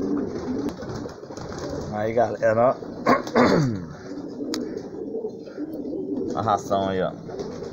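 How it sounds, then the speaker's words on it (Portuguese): Caged homing pigeons during feeding, with repeated throaty cooing phrases up close and occasional wing flutters, while someone talks over them. "Agora eu vou estar efetuando o tratamento dos pombos que estão presos."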